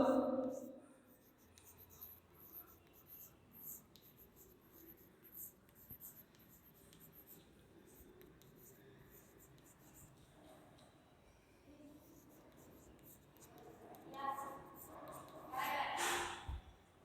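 Chalk or marker writing on a board during an English communication class, soft scratchy strokes running steadily through the room, with a few louder passages near the end.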